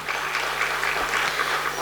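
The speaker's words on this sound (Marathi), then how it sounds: "तुमच्यासाठी जरा जोरदार टाळ्या होऊन जाऊ द्या" Audience applause at a public speaking event honouring a woman doctor in Pune, a steady crowd of clapping hands holding at an even level throughout, with no talk over it.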